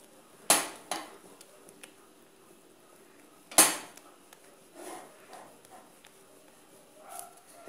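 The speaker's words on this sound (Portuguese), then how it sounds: "Vamos continuar mexendo." Brigadeirão mixture being stirred in a pan, two sharp metal clanks of a spoon against the pan followed by softer scraping and light knocks, quiet and close with no talking.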